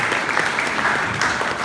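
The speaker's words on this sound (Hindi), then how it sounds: "तो मुझे तेरे डायरेक्शन पे शफीक खान के लिए ताली हो जाए।" Applause from an audience at a cricket coaching tour event in Maryland, USA: continuous, dense clapping from many hands at an even level for under two seconds, with no talk.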